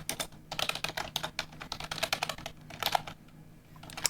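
Loud computer keyboard typing clatters in rapid, uneven bursts of sharp key clicks, close up and steady with short pauses, no voice over it.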